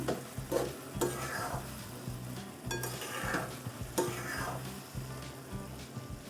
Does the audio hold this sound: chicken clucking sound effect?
no